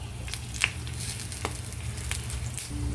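Ginger dropped into hot olive oil, sizzling and crackling at moderate volume with a few sharp pops and faint stirring scrapes.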